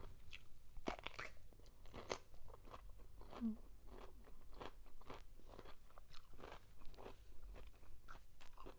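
Fresh cucumber being bitten and chewed up close, a steady run of crisp crunches and wet chewing with no talking.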